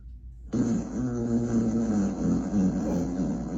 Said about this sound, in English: Alexa, bath fart.